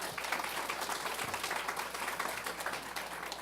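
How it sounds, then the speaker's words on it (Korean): Audience applause for the job panelists at an SK Innovation R&D careers talk concert, a steady patter of clapping that sounds moderately distant throughout. "이야기 보따리를 풀어주실 직무 담당자분들께 다시 한번 박수 부탁드릴게요"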